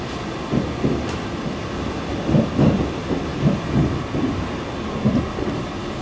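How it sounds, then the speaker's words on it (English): Low rumbling of a Northern Ireland Railways train arriving at Belfast Central, with periodic muffled thuds of wheels over rail joints, heard from inside a carriage, no talking. "We're now coming into Belfast Central."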